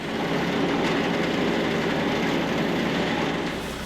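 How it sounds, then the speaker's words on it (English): A round hay baler works through a tying cycle during second-cutting haymaking, giving a steady, dense mechanical rumble and clatter from close by, with no talking. "it automatically started tying the bale before it hit full size"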